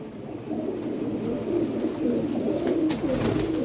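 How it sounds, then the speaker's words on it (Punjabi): Flying pigeons newly arrived at a pigeon fancier's coop, cooing steadily and up close, a dense overlapping murmur of low rolling coos that runs throughout without pause. "ਇਹ ਸਾਰੇ ਉੱਡਣ ਵਾਲੇ ਕਬੂਤਰ ਬਾਈ ਨਵੇਂ ਫਰਾਂ ਚ ਕਬੂਤਰ ਆ ਗਏ"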